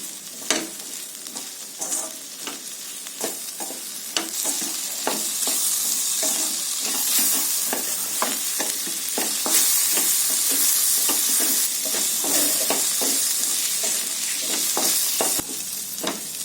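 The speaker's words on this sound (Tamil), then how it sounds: "இப்போ இந்த வெண்டைக்காவை மசாலா கூட சேர்த்து ஒரு 2 நிமிஷம் நல்லா கலந்து விட்டுக்கலாம்." Okra (ladies finger) tossed with masala in a hot pan, stirred steadily with repeated scraping strokes over a constant close sizzle of frying, with no talking.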